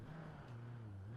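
Off-road vehicle engine in BeamNG.drive, a Cherrier Tograc, holding a steady low drone with a slight pitch dip and rise, faint and continuous over a short stretch.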